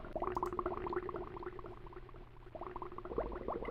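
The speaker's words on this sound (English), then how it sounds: "blowing bubbles in a jar and recording it to make it sound suitably nautical under here" An underwater bubbling effect from the video game Myst, made by blowing bubbles in a jar, gurgles continuously at a soft, even level with busy, irregular bubble pops.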